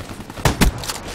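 Two quick gunshots from a first-person shooter, the first around the middle and a second, heavier blast just after, loud and close against a low game background.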